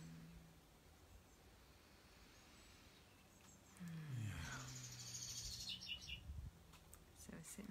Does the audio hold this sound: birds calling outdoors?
yes